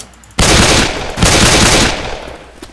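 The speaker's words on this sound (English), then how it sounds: "Shotgun." Loud blasts of shotgun fire in Left 4 Dead, two heavy bursts in quick succession with dense booming tails, no talking over them.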